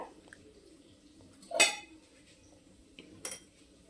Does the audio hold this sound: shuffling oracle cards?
no